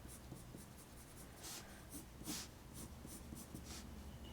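Mitsubishi 9800 HB pencil shading a drawing, a soft, steady scratchy graphite rasp with repeated short strokes, close and quiet, with no talking.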